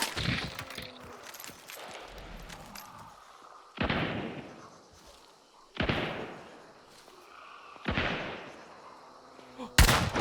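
Heavy gunshots from Hunt: Showdown 1896 boom out one at a time at roughly two-second intervals, each with a long echoing tail, loud against a quieter background.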